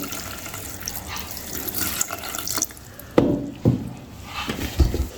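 Water runs and splashes into a pot over tamarind in uneven bursts, with a few louder pours and clinks, close by and without talk.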